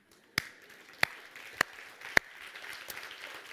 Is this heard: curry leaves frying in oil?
no